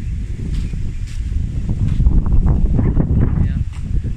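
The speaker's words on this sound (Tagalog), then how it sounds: "Lakas ng hangin." Strong wind buffets the microphone in a continuous low roar, with rustling and a voice speaking faintly underneath.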